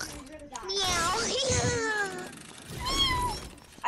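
A person imitates a cat, drawing out a couple of whiny meows in a high, wavering voice, close up with no other noise.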